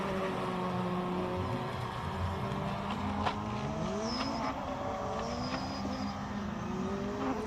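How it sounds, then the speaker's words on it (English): A Ligier race car with a JS53 Evo 2 2-litre four-cylinder engine at a hillclimb, revving loudly and continuously with rising and falling engine tones through gear changes, close and strong throughout. "Johan Stander in the Ligier with the JS53 Evo 2 engine, 2-litre 4-cylinder."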